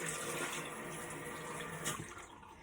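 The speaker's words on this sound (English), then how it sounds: "And then I'm just going to rinse my hands." Hands rinsed under a running bathroom tap after scrubbing the face, a steady broadband splash of flowing water filling the whole short stretch at close range, with no voices.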